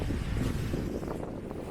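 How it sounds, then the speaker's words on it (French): Wind buffets the microphone outdoors by a hotel lounge chair, a continuous low rumbling roar, loud and close, with no talk. "il y a un petit peu de vent"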